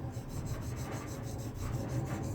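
A diamond plate is lapped with carborundum grit, producing a continuous coarse gritty scraping in a steady back-and-forth rhythm, close and fairly loud, with no voices.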